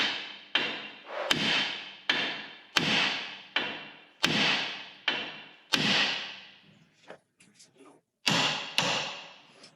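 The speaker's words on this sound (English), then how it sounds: "we're going to get our big hammer and we're going to strike the knuckle right here, right where the tie rod end goes in" Big hammer striking the steering knuckle of a Jeep Dana 30 axle near the tie rod end, a series of loud, sharp metallic blows with ringing decay, evenly spaced, then a brief pause and one more strike.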